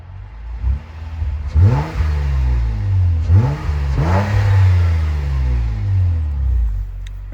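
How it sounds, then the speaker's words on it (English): A Honda Crosstour, running with its intake removed, idles and then is revved twice in quick succession. Each rev climbs and falls back to a low, steady idle, heard close and loud. "Let's do a couple revs."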